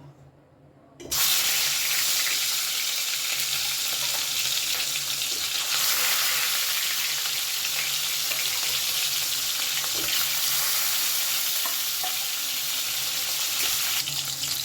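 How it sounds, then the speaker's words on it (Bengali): Steady, loud sizzling and crackling of katla fish frying in hot mustard oil in a kadai, continuous after a quiet first second, with faint clinks now and then. "মাছগুলোকে"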